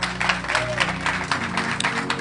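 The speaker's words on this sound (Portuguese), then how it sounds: "Continue aplaudindo ao Senhor." A church congregation applauds during a Portuguese-language worship service, with loud, lively clapping rising and falling in quick rhythmic bursts, a few voices mixed faintly into the crowd noise.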